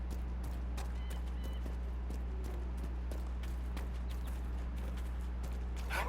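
Horse hooves clip-clopping steadily in Dragon Age: Inquisition, a regular rapid trot of hoofbeats over a constant low hum, fairly close with no voices over them.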